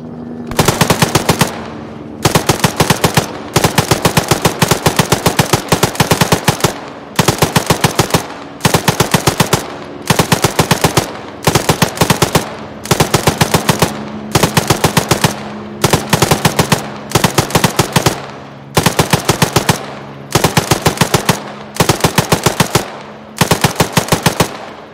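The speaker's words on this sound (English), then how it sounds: "HMGs at the south of that valley are also firing as well now" Heavy machine guns firing in the military shooter ArmA 3, loud sustained bursts of rapid automatic fire repeating in a steady rhythm with short pauses between strings of shots.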